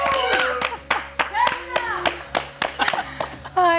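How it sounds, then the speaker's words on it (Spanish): Hands clap in an interview studio to welcome a guest, a loose burst of applause with sharp, irregular claps from a small group, heard alongside overlapping voices. "¿La recibimos con un aplauso?"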